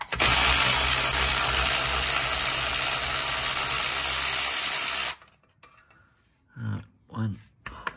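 Wrench loosening gearbox bolts on a Valiant VJ Charger, a steady loud mechanical rasp for about five seconds that then stops abruptly, followed by a few quiet clicks and brief voices.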